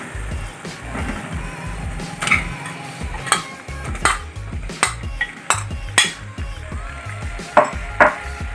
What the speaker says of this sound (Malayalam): ഇനി ഈ മസാലയിലേക്ക് നമുക്ക് കോഴി ഇടാം.